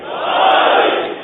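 A large majlis crowd roars back a Naara-e-Haidari response at a Muharram gathering, a sustained loud massed shout of many voices swelling and holding for over a second.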